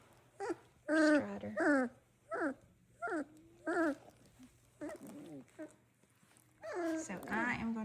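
Doodle puppies whimper and yip in a series of short, high, wavering whines, close by, with a person speaking softly between and over them.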